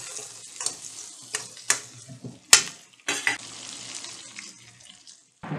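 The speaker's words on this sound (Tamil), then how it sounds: "150 கிராம் சாம்பார் வெங்காயம் சேர்த்துக்குங்க, நல்லா வதக்கி விடுங்க." Sambar shallots sauté in a pan with soft, intermittent sizzling and a few sharp scrapes and clinks of a spoon against the pan, close by, fading between stirs, with no voices.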